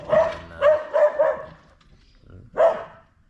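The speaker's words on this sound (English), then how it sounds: "because that dog is very dangerous, small but dangerous" A small dog barks sharply, four quick barks in a cluster, then a pause with a faint whine and one more loud bark, all close and with no talk over them.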